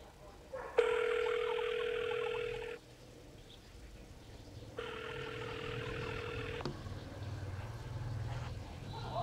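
Phone call ringing tone, two long buzzing rings separated by a gap, heard over faint background noise with no talking.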